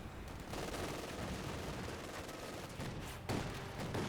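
An autocannon fires in Company of Heroes 2 amid battle noise, with rapid bursts of shots running steadily, fairly faint and distant, with a few heavier impacts near the end.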